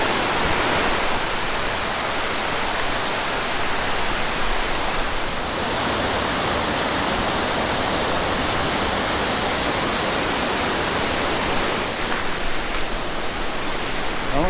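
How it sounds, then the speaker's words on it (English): Water rushing steadily down a big natural rock slide at a summer swimming spot, a loud, continuous broadband roar that stays even throughout with no pauses. "There's a big rock slide where the water goes lickety-split down it."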